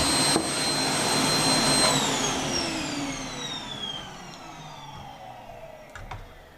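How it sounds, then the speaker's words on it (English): A vacuum cleaner roars close by as compressed air is blasted into a Dell XPS One A2010 computer, a loud whine that slowly falls in pitch and fades, with a brief click near the end. "Compressed air, and the reason I've got the vacuum is to catch as much as I can"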